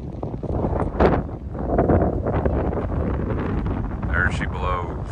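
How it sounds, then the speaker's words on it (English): Strong wind gusting across an open Oklahoma dig site, rumbling and buffeting the microphone in steady loud blasts, with a few brief higher sounds near the end. "The wind's coming from this way."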